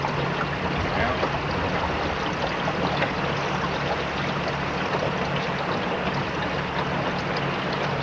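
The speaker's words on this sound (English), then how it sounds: "Water runs through that switch." Floodwater rushes steadily through a submerged railroad switch during the Great Flood of 1993, a broad, even wash of sound with no pauses and no voices.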